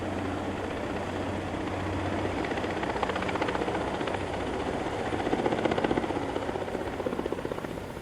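A helicopter flying steadily overhead, its rotor thumping loud and continuous, swelling slightly toward the end.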